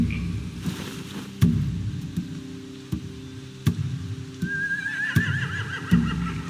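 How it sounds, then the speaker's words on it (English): A horse whinnies twice with rising, quavering calls over clopping hooves and scattered knocks in the video game The Walking Dead: The Final Season, fairly close and clear. "They have horses."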